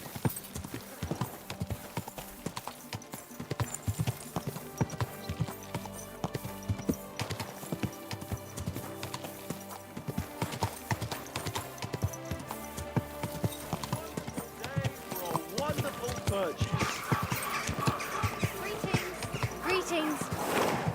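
Steady clip-clopping horse hooves trot along in a quick, even rhythm throughout in Kingdom Come: Deliverance II, with bursts of game sound effects and a voice speaking briefly over it.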